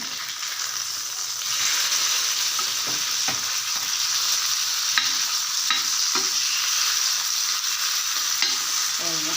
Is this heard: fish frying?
yes